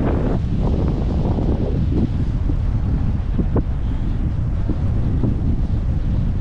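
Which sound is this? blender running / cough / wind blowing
wind blowing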